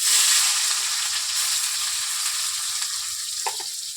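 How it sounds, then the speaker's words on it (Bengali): Chopped onion and green chili sizzle loudly in hot mustard oil for prawn curry, a steady bright crackle that holds throughout with a short clink near the end and no talking. "তেল গরম হয়ে গেছে, কেটে রাখা পেঁয়াজ আর কাঁচা লঙ্কা কুচানো তেলের মধ্যে দিয়ে দেবো।"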